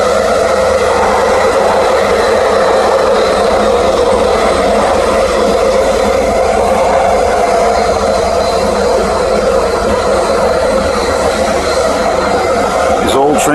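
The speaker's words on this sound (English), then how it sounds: "These old trains, these are the second oldest trains on the Skytrain line. They're noisy too." Loud, continuous rumble and whine of a passing older SkyTrain train on the Millennium Line, steady and droning throughout, with a sharp rattling burst near the end.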